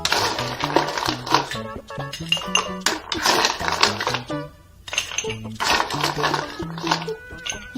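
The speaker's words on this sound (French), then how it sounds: "Et remplissez votre verre de glaçons." Ice cubes clinking and clattering into a glass for a mojito made with white rum and sparkling water, with repeated bright chinks over several seconds under a voice talking.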